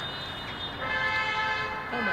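A car horn toots repeatedly in city traffic, a few loud, sustained honks layered over steady road noise, with people talking nearby.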